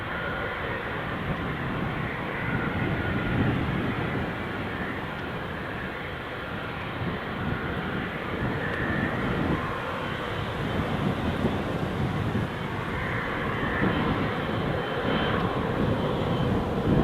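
An Emirates airliner at Newcastle Airport rumbles steadily on departure, a continuous broad jet engine roar that holds fairly constant and moderately loud throughout, with no voices.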